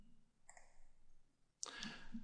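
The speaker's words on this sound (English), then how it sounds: "And save by clicking on the save icon." Computer mouse clicking to save a file: a soft double click, then a louder, sharper click followed by a short burst of faint rustling, close and quiet with no voices.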